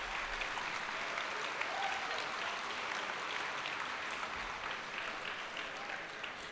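An audience at the 2019 Reapercon awards ceremony applauds steadily in a dense, even wash of clapping that holds at a constant level throughout.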